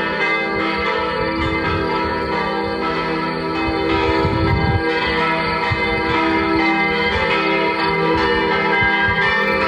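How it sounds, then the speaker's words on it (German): Church bells ring out a long, drawn-out chime outdoors on a walk in nature, with sustained overlapping tones ringing continuously and fairly loud with no speech. "Ein extra Glockenspiel, was länger dauert"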